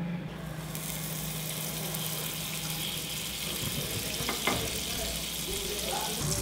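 Butter melting in a preheated pan over a low gas flame makes a continuous, even hiss and sizzle, close and unbroken, with a faint tap near the end.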